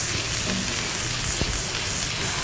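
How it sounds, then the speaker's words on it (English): Vegetables sauteing in oil in a home kitchen for a vegetarian Asian curry dish, giving a steady, close, broadband sizzle and crackle that runs unbroken throughout, with a brief stirring scrape midway and no talking. "And it just releases all that flavor by just sauteing it."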